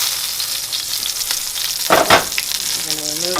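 Pearl onions frying in a pot for beef bourguignon, a constant close sizzle broken by a couple of louder stirring scrapes midway.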